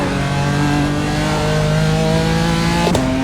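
A BMW M4 engine in a racing simulator at the Nürburgring revs loud and sustained at high pitch, then drops sharply with a gear change near the end.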